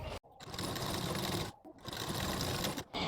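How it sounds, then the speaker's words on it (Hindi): A sewing machine stitches blouse lining in fast, steady bursts close up, running loud with two brief pauses between runs. "पहले हम लोग नीचे की तरफ एक सिलाई लगा देंगे।"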